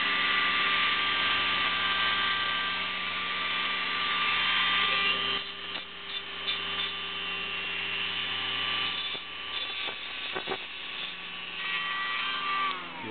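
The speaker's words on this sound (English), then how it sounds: "So just take the Dremel." A Dremel rotary tool whines steadily while grinding a homemade lockpick, a constant high motor tone whose pitch and grit shift slightly as it bites into the metal partway through.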